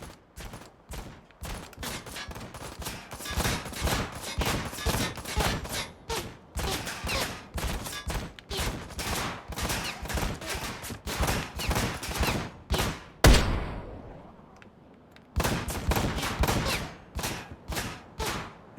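Rapid bursts of rifle gunfire in a video game crack out one after another in a dense, loud string, briefly breaking off with a single heavy shot before the volley resumes.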